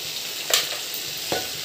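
Tomato egg curry with onion simmers in a pan, giving a continuous soft sizzle and bubbling with two brief louder spatters, no voices present.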